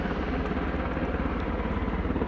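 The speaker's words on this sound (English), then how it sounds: "Pretty loud helicopters" Loud helicopters pass overhead with a steady, rapid rotor thump over a broad roaring wash that stays dense and continuous throughout.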